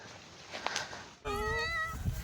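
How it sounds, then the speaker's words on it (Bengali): A cat in a Santali village, surrounded by sal and date palm trees, meows once, long and drawn out, while following someone on foot, after a stretch of faint outdoor ambience. "বিড়ালটা দেখতে পাচ্ছেন আমার পিছনে পিছনে চলে আসছে"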